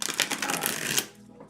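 Tarot cards shuffled by hand in a steady burst of rapid riffling clicks lasting about a second, then tapering into quieter handling.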